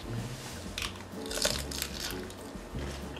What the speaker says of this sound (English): the crunch from those water chestnuts and those red bell peppers are absolutely scrumptious